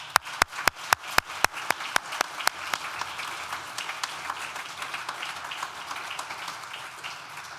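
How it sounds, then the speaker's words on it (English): A hall audience applauds at a university law school graduation ceremony, opening with a few loud, distinct claps that quickly merge into a steady, dense patter of clapping from many hands. "join me in a round of applause to thank all the people who've supported you"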